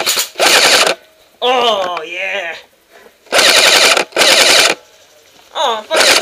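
Paintball guns fire outdoors in several rapid, loud bursts of shots, with excited shouting between the volleys.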